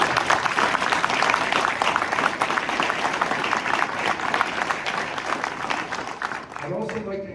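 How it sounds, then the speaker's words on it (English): Audience applause at a county executive candidate forum: dense, sustained clapping from a seated crowd that fills the room and tapers off at the end, where a voice begins to speak. "let's give them a round of applause"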